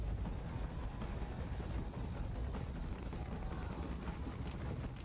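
A helicopter in the video game Metal Gear Solid V: Ground Zeroes flies during a rail-shooter section, its rotor giving a steady, dense, continuous thrum throughout.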